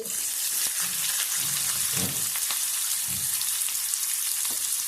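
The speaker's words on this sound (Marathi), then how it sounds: "मग कांदो भाजून घ्यायचो" Onion frying in a pan with roasted coconut and bay leaf for a Malvani village gravy, giving a loud, even, continuous hiss with occasional soft stirring knocks underneath.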